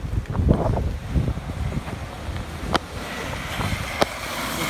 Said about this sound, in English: So the wind keeps on coming and going.